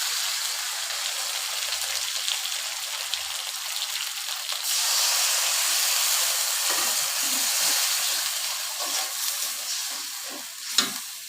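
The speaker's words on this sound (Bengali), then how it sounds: "1 চামচ আদা বাটা, জিরা বাটা, রসুন বাটা, 2টা তেজপাতা এবং তার সাদা এলাচ দিয়ে এখন মশলাটাকে কষাবো।" Ginger, cumin and garlic pastes with bay leaves and cardamom sauté in a pan over browned onions, a steady close sizzle that swells louder partway through, with scraping stirs and clinks toward the end.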